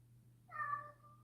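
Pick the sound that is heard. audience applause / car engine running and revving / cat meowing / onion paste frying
cat meowing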